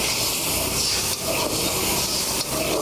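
Water splashes into coriander powder frying in a pan with potatoes and produces a loud, steady, broadband hiss of steam and sizzle that holds for a few seconds, close and without any voices.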